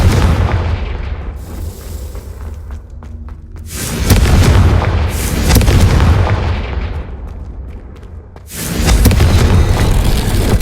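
Confringo blasting spell explosions in the Hogwarts Legacy video game: loud, booming blasts come in several bursts with rumbling decay between them, close and dominant, with no talking.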